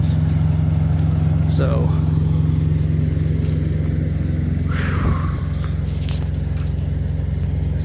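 A truck-mounted APU generator runs with a steady, loud low hum and rumble, constant throughout, with a brief spoken word over it and faint passing sounds in the background.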